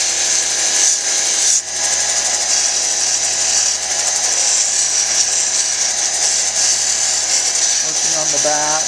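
A soft stone cabochon is ground against a spinning 600 grit lapidary wheel, giving a continuous high whirring hiss with faint scraping variations, steady and close throughout.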